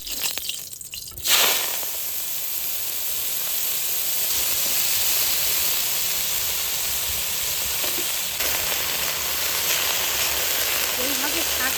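Methi greens dropped into hot white oil, a sudden burst of sizzle followed by a steady, bright frying hiss that continues to the end, with a brief quiet handling noise before the burst.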